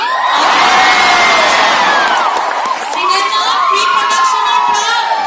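A college hall audience at a film team's visit cheers and whoops loudly, a dense continuous roar of excited young voices and shouts with scattered claps, close and filling the room throughout.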